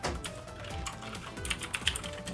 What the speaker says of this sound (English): I'm always guessing at my keyboard because I can't see it.